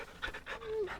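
A dog panting from the video game Final Fantasy XVI as it is petted: quick, soft breathy huffs over about a second, close and fairly quiet, with no talking.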